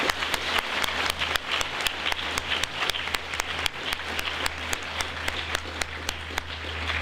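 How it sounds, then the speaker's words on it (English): Applause from a school district celebration audience honoring an "A" rating, a steady crowd clapping with sharp, regularly spaced loud claps standing out over a continuous low hum throughout. "give a round of applause to the entire district for this A"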